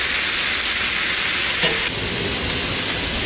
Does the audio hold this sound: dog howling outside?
no